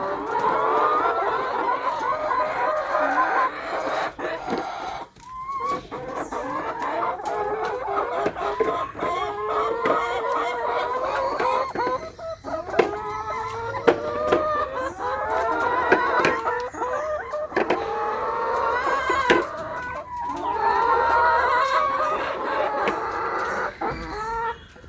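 Hens in a chicken coop cluck and squawk continuously in overlapping calls, some loud and close, with bursts of rising cackles across the whole stretch and no talking.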